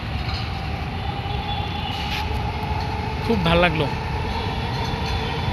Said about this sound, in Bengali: আবার এদিকে মেট্রো রেল যাচ্ছে